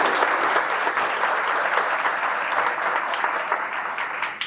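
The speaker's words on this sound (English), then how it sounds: "so give him a round of applause" An audience at a speaker-series event bursts into sustained applause, dense steady clapping from many hands that holds strong throughout and eases off slightly at the very end.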